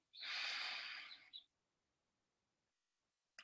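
A deep inhalation during a seated qigong breathing session, one long airy breath lasting over a second, close and clear, followed by near silence and a brief faint sound at the end.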